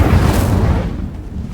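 Incendio fire spell cast in Hogwarts Legacy on ultra settings: a loud, close fiery burst with a booming whoosh that flares at once and then tails off over about a second and a half.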